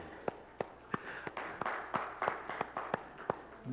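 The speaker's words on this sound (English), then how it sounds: "Give me a hand clap." A church congregation claps together during a Pentecostal service, about a dozen sharp hand claps in a steady rhythm over a murmur of voices and room noise.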